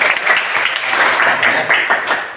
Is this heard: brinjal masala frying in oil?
no